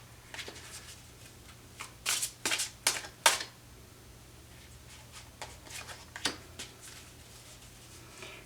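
Tarot cards shuffled by hand, a quick burst of riffling and slapping in the middle, then lighter scattered card handling, close and clear over a low steady hum.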